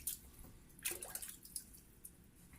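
Water splashes and drips as a synthetic shaving brush is wet under running water, a brief, faint burst of trickling and dripping close by.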